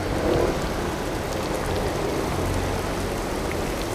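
Heavy rain pours steadily around a cyclist on wet, flooded roads in Paris, a dense continuous hiss of drops hitting the surface with a low rumble beneath and no speech.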